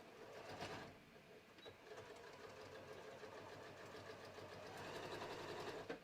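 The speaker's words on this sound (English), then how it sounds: "we are going to just sew this" A sewing machine stitches a short sleeve in a steady, faint mechanical whir with a light rapid rhythm that runs continuously throughout.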